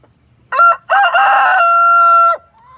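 A rescued homestead rooster lets out one loud, close crow: a short opening note, a brief gap, then a long drawn-out call that ends abruptly, followed by quiet.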